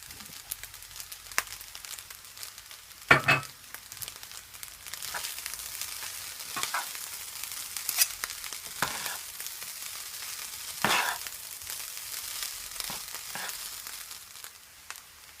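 Eggs frying in a pan of shrimp fried rice give a steady close sizzle, with a sharp clatter near the start, scattered stirring scrapes and a brief louder crackle midway.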